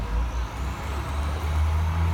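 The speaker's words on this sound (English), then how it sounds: "Here comes the fire truck." A fire truck arrives, its heavy diesel engine rumbling low and steady at close range with a hiss of air brakes, no one talking over it.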